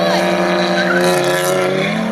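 Cars launch off the line in a drag race with a loud, sustained engine roar, and the pitch climbs steadily over a couple of seconds as they accelerate. A tire squeal carries on top of the roar.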